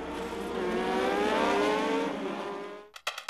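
Formula Nippon single-seater race cars roar at a race start in Japan, a dense, loud blend of high-revving engines rising and holding, then cutting abruptly into a few sharp bursts.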